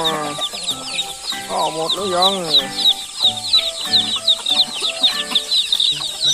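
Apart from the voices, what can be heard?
chickens clucking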